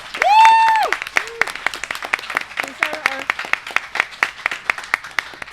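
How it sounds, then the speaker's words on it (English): A few people at a Pride roundtable event clap in scattered, uneven bursts, sparse individual claps rather than a full crowd, following a brief spoken remark at the start. "If you can please stand up and give them a round of applause."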